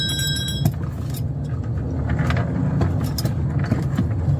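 Steady low rumble of a car driving, heard from inside the cabin, with faint rattles and a brief high whine at the start.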